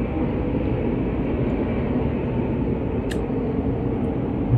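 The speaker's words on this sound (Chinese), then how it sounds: "我不知道你们能不能听到这个声音，赛车的那种引擎的声音。" NASCAR race car engines on a Chicago street circuit make a continuous, muffled roar from a short distance away that holds steady and even throughout, heard from a city street.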